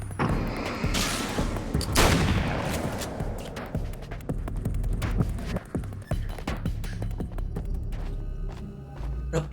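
Shotgun blasts in Alan Wake American Nightmare, a series of loud close booms and sharp reports spread irregularly across the scene amid game noise, most intense early on.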